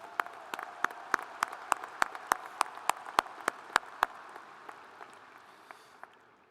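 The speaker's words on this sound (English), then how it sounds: "Please give a big Coug round of applause to our Regents and all that they do for WSU." Sparse, regularly spaced claps at a university commencement ceremony, a few hands clapping in a steady rhythm that gradually thins and fades, with no talking.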